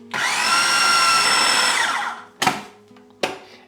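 A blender whirs steadily for about two seconds, mixing pastry dough with an egg and sunflower oil, then two short bursts follow as the motor kicks on and off again.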